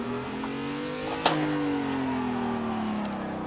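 A car engine in a drifting racing simulator game revs under acceleration, its tone sliding and shifting with a sharp transient partway through, steady and moderately loud with no talk.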